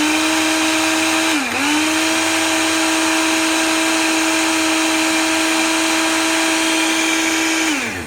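An electric coffee grinder grinds beans finer with a loud, steady motor whine close by. The pitch dips briefly near the start, then it runs on evenly until it cuts off.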